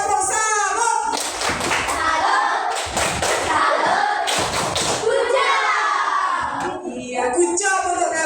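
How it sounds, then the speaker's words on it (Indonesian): A classroom group of children clapping together in rhythmic bursts, close and loud, mixed with thumps, shouting and chatter, with an adult voice talking over parts of it. "kita beri tepuk salur untuk kita semua"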